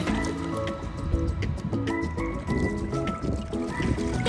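A reusable water balloon is filled underwater, giving a continuous muffled gurgling and squishing, close and steady, with no clear speech.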